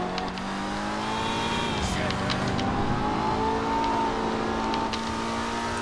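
Steady engine drone of a tuned ETR1 sports car driving and accelerating in GTA Online, with rising revs and gear shifts heard close and loud, and a voice talking over it.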